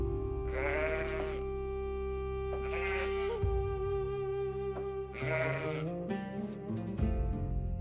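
Several sheep bleating in long, wavering calls, three or four distinct cries in turn over a sustained tonal drone, fairly close and clear.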